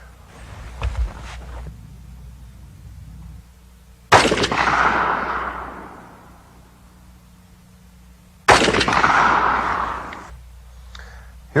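.30 caliber carbine shots fired at a target: two loud, sharp reports, each with a long echoing rumble trailing off outdoors, preceded by faint handling noises.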